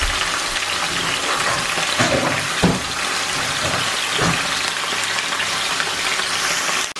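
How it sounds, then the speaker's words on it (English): Pork pieces browning in a pan of oil, a steady loud hiss and crackle throughout, broken by a few sharper spits and pops, with no talk. "That's the pork just going in now."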